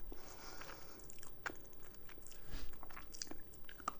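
Someone chews food and swallows while eating a burrito meal with sides and dessert, close and crisp, with repeated biting and crunching and wet mouth sounds over a steady low hiss.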